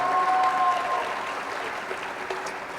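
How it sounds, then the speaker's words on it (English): Audience applause at an employee retirement and recognition ceremony, a steady burst of clapping from a crowd filling the room, gradually easing off. "let's just give Shelley a round of applause"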